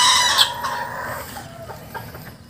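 Clucking from a bantam chicken kept among a small backyard flock, a few short calls near the start that fade into softer, scattered chatter, with no one talking over it.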